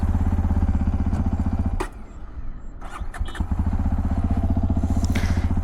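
A Hero XPulse 210 motorcycle engine cranks and stumbles briefly, then settles into a steady, close putter of idling, single-cylinder pulses.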